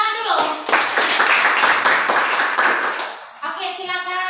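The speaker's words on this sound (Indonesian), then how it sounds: "Oke, tepuk tangan dulu." A classroom of students claps hands together in a dense burst lasting a few seconds, with a teacher's voice speaking just before and after.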